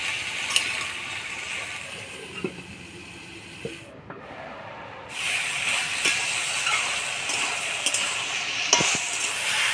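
Vegetables are stirred in a pan with ground spice paste, garlic paste and chili paste: a steady sizzling hiss broken by scraping spatula strokes, dropping briefly quiet midway before resuming.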